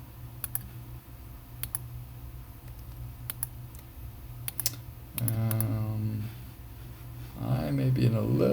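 Computer keyboard and mouse clicks while working on data graphs in Excel, sharp isolated taps scattered throughout, with a person talking over the later part.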